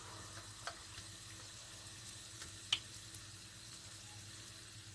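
Plantain puff puff batter frying in hot oil, a soft steady sizzle with faint crackles and a couple of sharp pops, heard close with no talking.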